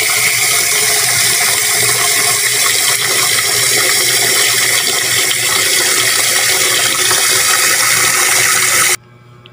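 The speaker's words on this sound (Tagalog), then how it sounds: "Lagyan na natin tubig." Water pours steadily and loudly into a cooking pot, a continuous splashing rush lasting several seconds before stopping abruptly.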